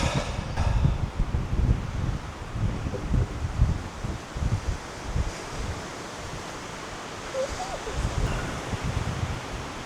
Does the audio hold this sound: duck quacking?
no